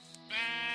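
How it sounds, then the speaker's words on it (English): A single sheep bleat from the Minecraft video game, a sustained wavering cry that begins after a brief quiet lead-in and holds steadily to the end, clear and close with no talk over it. "there's sheep"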